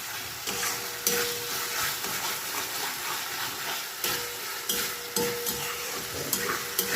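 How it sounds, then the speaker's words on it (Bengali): Masala paste stir-fried in a pan for potol chingri, a steady sizzle broken by repeated scraping stirs close by; no voices. "তো এবার মশলাটা আমি আরেকবার ভালো করে কষবো"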